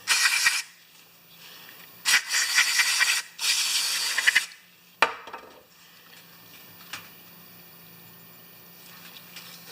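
Spray cleaner blasting a Honda EX1000 generator carburetor bowl, with several loud hissing bursts in the first five seconds, then a sharp tap and quiet room tone with faint small clicks.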